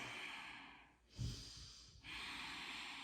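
Slow, audible breaths while holding a forearm plank during a yoga flow: a soft exhale, a brief pause, then a fuller, louder inhale, close and alone with no talking.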